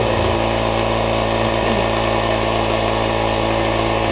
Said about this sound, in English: I think the battery on my inflator died.